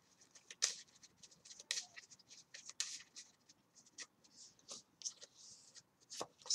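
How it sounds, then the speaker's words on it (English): Playing cards shuffled by hand during a Yu-Gi-Oh Lightsworn Shaddoll combo, a series of soft, quick riffling and tapping bursts at close range with no talking. "We shuffle."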